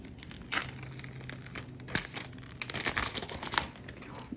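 Plastic sheet crinkles and crackles up close as a cut section of diamond painting is peeled out, with scattered sharp crinkles and tearing sounds and no talk.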